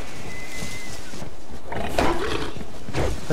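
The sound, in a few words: wolf growling in the video game Savage Lands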